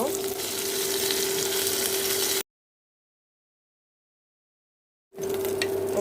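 Hilsa fish tails fry in a pan with a steady, close sizzle that cuts out abruptly midway into silence, then resumes just as strongly for the final second.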